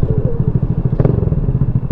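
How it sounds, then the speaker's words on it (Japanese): A Chinese Monkey-style pit bike engine putters loudly and close at low revs while riding into a Rideo Land Kashiwa store lot, with a brief clatter midway. "ピットバイクで入っていくの難しいんだけどな"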